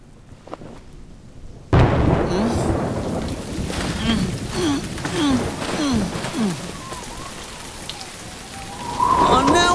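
Steady rain pours down after a quiet opening, with rumbles of thunder rolling underneath and a brief high tone near the end.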